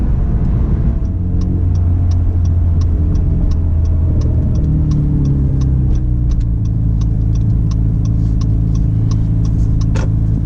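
A car's engine rumbles loudly and steadily in Sport Plus mode at an outdoor cars and coffee meet in Houston. A deep drone shifts slightly in pitch while a regular light ticking runs over it.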